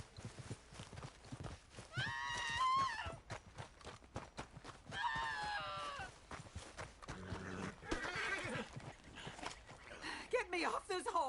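In the Red Dead Redemption 2 video game, a horse whinnies several times and its hooves clip-clop steadily throughout, while characters talk over the scene.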